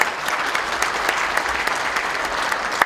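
A hall full of people claps at a public gathering, producing a dense, steady roar of applause at close range with no talking.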